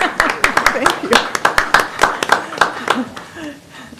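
Audience at a city council meeting giving a short burst of clapping, a dozen or so sharp close claps in a loose rhythm that fade out after a few seconds.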